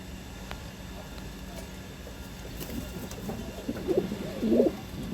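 Tournament pigeons cooing softly in their loft, a few low throaty coos rising toward the end over a quiet background hum.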